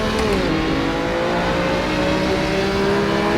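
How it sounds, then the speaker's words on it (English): Ferrari race car engine in Assetto Corsa, set at the 1957 Nürburgring, roars loudly and steadily with a sustained high-revving drone and rising pitch, close by and alone without talk. "You hear that Ferrari next to me just roaring its way."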